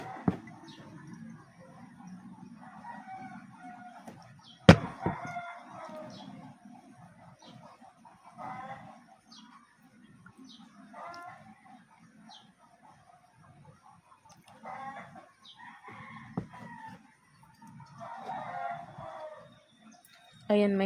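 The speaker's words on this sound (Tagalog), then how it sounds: "May manok sa kabilang ano. May naririnig ako." A rooster crows several times at a distance in the Philippines, faint bursts rising over a low background hum and murmuring voices.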